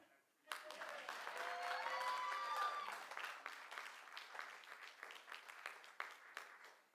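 Audience applause at a live show breaks out abruptly and holds as a dense, loud burst before thinning into scattered claps, with brief whistles and cheers rising over it early on.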